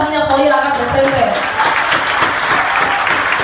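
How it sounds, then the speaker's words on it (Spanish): A studio audience at a comedy show bursts into loud, sustained applause that rises and fills the room, with a voice speaking over the start before the clapping takes over. "fuerte el aplauso para todas las minas jodidas acá presentes"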